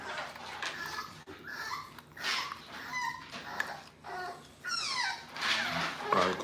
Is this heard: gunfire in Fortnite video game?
no